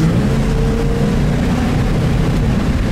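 A 1972 Buick GS 455 Stage 1 muscle car engine gives a deep, steady rumble, idling low and smooth, a continuous throaty drone without any sharp revving.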